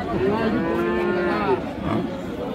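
A Friesian cow at a busy cattle market in Dinajpur lets out a long, loud, wavering moo close by, set against steady crowd murmur and market background noise.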